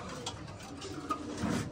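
Male pigeons cooing in a loft; a brief, low throaty coo rises near the end over a steady background hiss and faint ticking, fairly close and soft.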